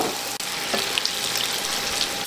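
Tofu frying in hot oil on an induction cooker until golden brown, a steady close hiss of sizzling oil running throughout with faint crackles and no talk.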